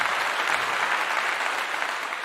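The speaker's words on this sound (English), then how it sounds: "Give her a clap." An audience claps steadily throughout as a dense, even wash of many hands at a live event, with no voices standing out.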